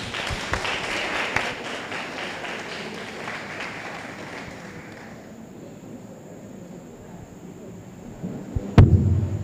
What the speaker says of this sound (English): a round of applause for our guests.